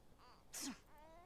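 A single sharp sneeze bursts out in the middle, brief and fairly close, set against a quiet room with faint voiced sounds around it.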